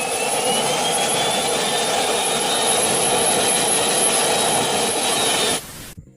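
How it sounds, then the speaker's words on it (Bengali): An MTT Y2K superbike's turbine engine roars with a loud, steady jet-like whine and rising high-pitched tone for about five and a half seconds, then cuts off abruptly into near silence. "এটার টারবাইন ইঞ্জিনের সাউন্ড।"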